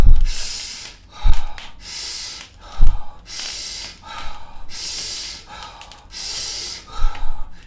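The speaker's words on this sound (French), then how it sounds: "Inspiration nasale et expiration buccale. Toutes les deux forcées." Forced breathing in a guided breathwork session: strong nasal inhales alternate with long, breathy mouth exhales in a steady rhythm, about five cycles, loud and close with no talk.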